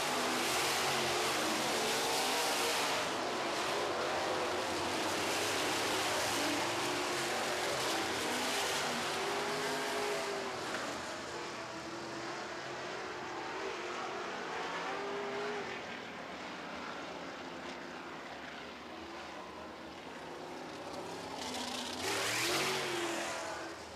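Sprint cars roar around a speedway during an All-Star Circuit of Champions A feature, a dense continuous engine drone with rising and falling passes, loud and sustained throughout.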